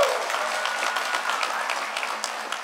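Audience applause at a DEF CON 20 hacker conference welcome session, a steady wash of many hands clapping in a large hall that holds even for nearly three seconds, with no voices.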